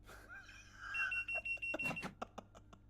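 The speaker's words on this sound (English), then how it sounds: "The buzzer's telling me no." A warning buzzer in the Train Sim World 4 video game sounds as a long high tone, then a run of short rapid beeps, faint against a low hum.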